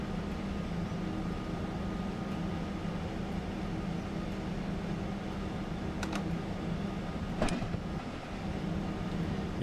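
Train running in Train Sim World 5, a continuous rumbling drone with steady low hum, and a couple of brief sharp clicks or clanks near the end.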